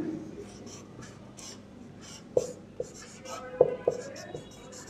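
Chalk or marker strokes on a classroom board during a maths lesson, a series of short scratchy taps and scrapes, close and moderately loud, while a teacher keeps talking.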